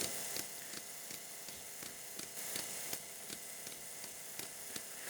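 A fine continuous spraying hiss with regular faint clicking pulses from a Lucas fuel injector on a Maserati, quiet and mechanical, with no voices.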